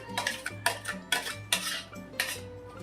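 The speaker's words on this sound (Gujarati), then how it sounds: "સરસ રીતે મિક્સ કરી દેશું" Idli batter with green chilli paste is mixed in a bowl, a spoon scraping and clacking against the sides in quick rhythmic strokes, close and fairly loud.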